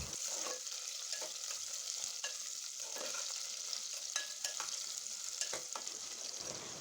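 Onion and curry leaves frying in oil for hotel-style sambar rice, a steady close sizzle with scraping stirs of a spoon against the pan at intervals, no talk.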